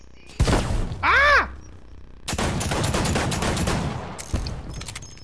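Pistol gunfire in the Fortnite video game, a few sharp shots with a bright whistling effect early on, then a longer dense burst of rapid cracking fire and another shot near the end, no voices.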